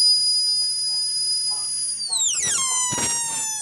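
A toy flute whistles a steady high tone that slides sharply downward, then breaks into bursts of breathy, wavering notes, loud and close. Noise beneath may be speech.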